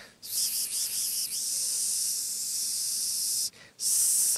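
A human voice imitates a snake's hiss with a long, steady, breathy 'sss' held for several seconds, briefly broken by a short gap, then resumed loudly, with no other sound.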